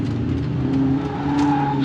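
A black 1988 BMW E30 M3 with its rear end stepping out under power, engine droning steadily under a continuous tire squeal that holds for the whole stretch, loud and close.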